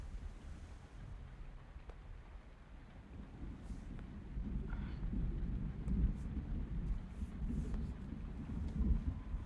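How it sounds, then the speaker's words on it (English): Steady wash of heavy rain with a deep, rolling rumble of thunder underneath, swelling slightly louder toward the end. "It's been raining like cats and dogs."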